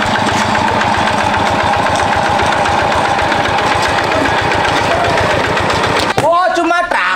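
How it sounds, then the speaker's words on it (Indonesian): A tractor engine runs loud and close with a fast, even chugging pulse that holds steady, then cuts off abruptly near the end as a voice briefly speaks. "Oh, cuma traktor. Traktor ini."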